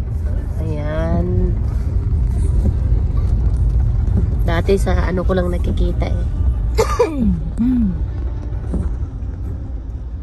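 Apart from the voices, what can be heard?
road traffic in Paris near the Champs-Élysées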